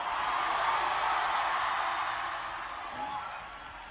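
A church congregation claps and cheers in a large hall, a dense, steady wash of applause and shouting that stays loud before easing slightly toward the end.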